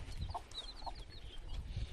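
A black hen, mother to a fresh brood of nine chicks, clucks softly in a farmyard. A few short, faint clucks come over a low background rumble, and no one speaks.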